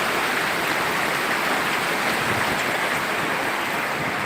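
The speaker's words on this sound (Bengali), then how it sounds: "দেখাচ্ছি বৃষ্টি হচ্ছে" A downpour in Sirajganj after scorching heat, rain roaring as a constant, loud wash of noise close by, uninterrupted and without voices.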